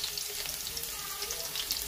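Garlic frying in hot oil in a kadai, a steady dense sizzle with crackling pops throughout, close and even, without talking.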